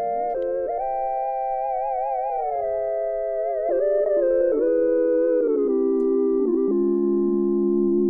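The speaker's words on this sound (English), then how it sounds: "It's 3 sine waves, sine synthesizers, which play like a 3-voice melody." Three sine-wave synthesizer voices play a gospel-inspired three-part melody, pure smooth tones gliding between sustained chords with gentle vibrato, clean and alone without drums or voices.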